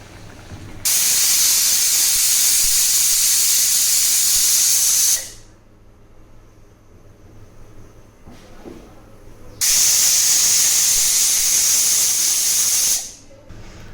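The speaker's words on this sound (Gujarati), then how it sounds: "હવે આપણે કુકર બંધ કરીને 2 થી 3 વિસલ વગાડશું." A pressure cooker steaming ridge gourd lets off two long, loud, steady hissing jets of steam, each lasting about four seconds, with a quiet pause between them.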